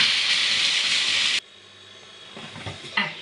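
An electric food chopper blitzes hazelnuts on their own with nothing added, giving a loud, steady whirring grind for about a second and a half. It then cuts off abruptly, leaving faint knocks and handling sounds.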